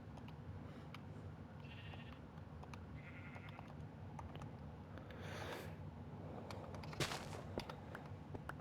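Sheep in the Minecraft video game give two short bleats over a low ambient hum, followed by a couple of sharp bursts of other game sounds.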